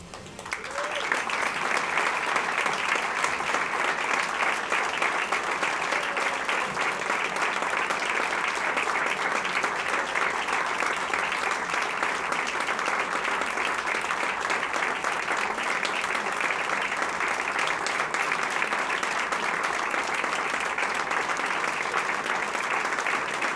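Sustained audience applause fills a school board meeting room, steady and loud for over twenty seconds as a team comes forward after winning a state championship, with a brief buildup at the start and no pause.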